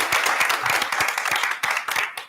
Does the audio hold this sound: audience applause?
yes